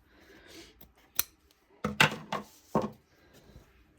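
Scissors cutting out a craft piece: a few sharp, close snips come in short irregular bursts, with a quick cluster in the middle, over a quiet background.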